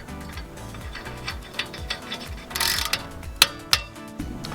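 Torque wrench or ratchet clicking while tightening BMW F30 wheel studs with thread locker: quiet repeated ratcheting clicks with a couple of sharper louder clicks near the end, close by, no talk.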